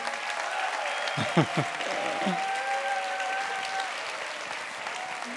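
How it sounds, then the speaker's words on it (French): Applause from an audience at a mayor's supper, a steady wash of clapping lasting throughout, with a few brief voice bursts and whistle-like tones rising over it early on. "Par applaudissement, ça vous dit quoi,"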